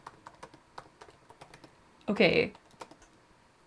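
Keys clack on a typewriter in a sparse, irregular run of crisp taps, close and moderately loud, while a voice briefly speaks partway through.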